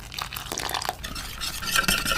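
Cartoon stirring: a quick, busy churning and scraping of a spoon through something wet in a pot, close and fairly loud, continuous with uneven bursts and no talking.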